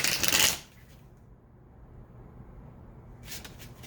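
Twin Flame oracle cards are shuffled in a brief, close riffling burst at the start, followed by quiet, and then a faint second flutter near the end.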